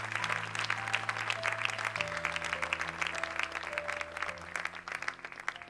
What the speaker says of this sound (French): on acclame la parole.